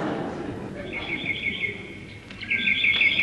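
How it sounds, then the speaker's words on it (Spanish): Nightingale song used as an effect in a Spanish stage comedy: bright trilling, warbling phrases in two bursts, the second louder, over a low murmur of voices and room noise. "Ya trina el ruiseñor."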